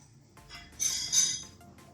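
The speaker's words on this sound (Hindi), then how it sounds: "चिकन डालने के बाद अच्छे तरीके से इसको मिक्स करें" Chicken pieces stirred in a metal karahi pan for a Lahori chicken karahi, with clinking scrapes of a utensil against the pan that grow louder midway, close and alone without talk.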